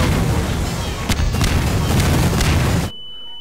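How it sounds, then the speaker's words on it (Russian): Rocket launcher explosions in Garry's Mod fire in rapid succession, a loud dense barrage of booms and blasts that abruptly cuts to near silence at the end. "Вообще разрушительный ракетомет."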